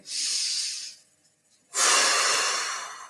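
Two long, airy breaths during a guided relaxation breathing exercise, each rushing and hiss-like, separated by a short pause and close to the microphone.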